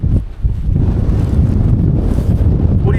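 Sub-zero winter wind and snow buffet the microphone in a loud, steady roar with gusty low rumble throughout, no voices over it.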